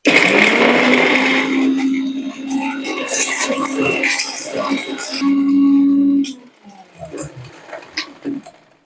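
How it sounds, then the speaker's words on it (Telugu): A mixer grinder grinding cinnamon and cloves into tooth powder whirs loudly and steadily for about six seconds, then switches off, leaving a few quieter clatters and knocks. "సో దీన్ని ఇప్పుడు మనం మిక్సీ వేసుకుందాము"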